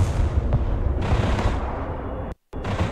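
Weapons fire and explosions from the real-time strategy game Broken Arrow during a 5v5 multiplayer match, including anti-vehicle weapons: a dense, continuous rumble of booms and gunfire, loud and close, cutting out briefly near the end before resuming.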